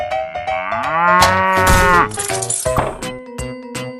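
A cartoon cow moos in a 3D animation, one long drawn-out tonal moo that swells and then fades, followed by light clinking and bell-like sounds, loud and close, with no speech.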